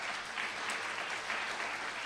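Steady applause from an audience at a student leadership awards ceremony, many hands clapping together at an even level throughout, with no voices heard.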